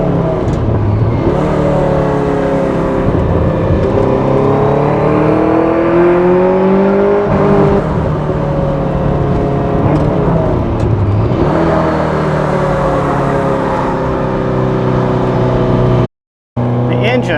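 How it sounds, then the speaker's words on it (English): A 1978 Ferrari 308 GTS fitted with ITBs and EFI, held in second gear, revs repeatedly toward about 7,000 RPM with a loud, throaty intake roar and exhaust note rising and falling in long sweeps before cutting off abruptly near the end. "It's got this nice throaty intake roar, and then the exhaust system itself."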